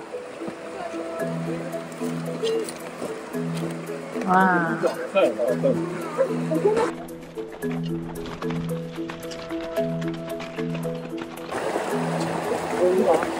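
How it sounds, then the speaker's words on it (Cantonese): A fast-flowing glacial stream in Iceland rushes steadily in the background while people talk and exclaim over it, with the water noise rising clearer and louder in brief gaps between voices. "我哋要過呢條溪，啲水好急喎！"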